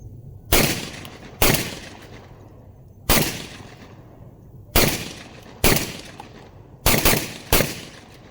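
Six loud, sharp shotgun blasts from a Beretta 1301 tactical semi-automatic shotgun, spaced irregularly about a second apart, each with a short decaying echo, heard alone outdoors.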